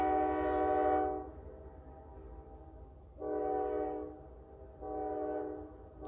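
A train horn sounds three long blasts near a train station, the first longest, over a constant low rumble of rolling rail cars.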